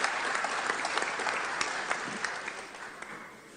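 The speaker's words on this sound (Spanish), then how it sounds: "Recibimos con fuertes aplausos." An audience at a political parties forum applauds a former Argentine assembly member as she comes up to speak, with sustained clapping and a few sharper claps standing out, and no talk.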